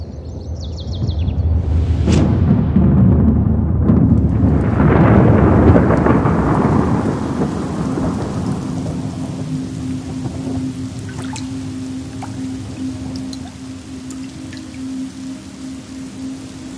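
A thunderstorm with a rain shower opens with a sharp crack and a long rolling rumble of thunder, then steady rain patters and drips on for the rest, fairly close and alone.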